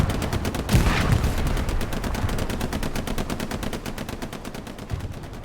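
Rapid, evenly spaced game gunfire rattles steadily through the whole stretch, with a heavier thud early on. It comes from a tank in a competitive team match, loud and dense, with no talking over it.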